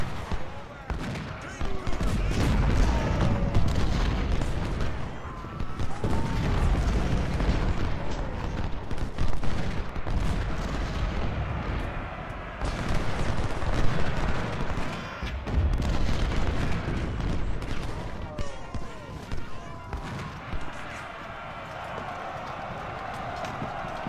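Rifle volleys and artillery booms from the video game Ultimate General: Civil War rumble in a dense, continuous battle din, mixed with galloping hooves, as a player talks over the fighting.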